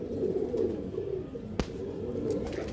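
Several pigeons coo in a continuous low murmur of overlapping rolling calls, fairly faint, with a sharp click partway through.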